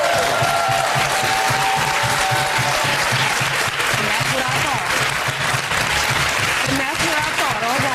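A TV studio audience on a daytime talk show breaks into sustained loud applause, a dense continuous wash of clapping with cheering and voices rising through it for the whole stretch.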